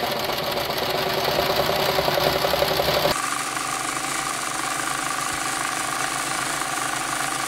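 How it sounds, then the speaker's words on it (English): A serger sewing machine stitches along the bias edges of fabric for 18th-century fall front trousers, a loud, steady close-up mechanical whir that drops to a lower, gentler running hum partway through, with no voices. "being really careful to guide my fabric through the serger, not pull it through"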